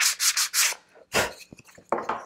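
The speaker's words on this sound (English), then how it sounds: "if you're here for the sanding one last time, your sander's gonna get a workout" Wooden pieces of a pyrography pen tip holder being sanded, with a quick run of four rough rasping strokes, a pause, then a longer scraping pass and two shorter ones, close and fairly loud with no voices.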